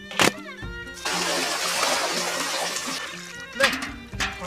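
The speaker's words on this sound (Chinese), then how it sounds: "倒水" Water poured over raw beef tripe for washing, a steady splashing rush lasting a few seconds between brief knocks, fairly close and moderately loud.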